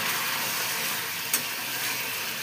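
Green chillies sizzle in a simmering rohu fish head curry in a home pan, a steady, close hiss and crackle with one brief sharp pop partway through.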